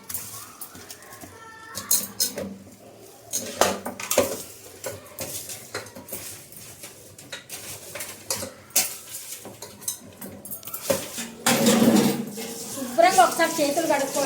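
Pieces of goat head meat dropped and scraped into a pressure cooker, with clattering metal, clinks and thumps in irregular bursts, close and moderately loud.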